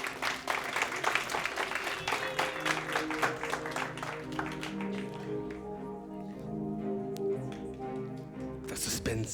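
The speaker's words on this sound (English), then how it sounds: "Everybody will give you a round of applause." Audience applause at a live magic show, a dense patter of clapping throughout with music and voices underneath, swelling again near the end.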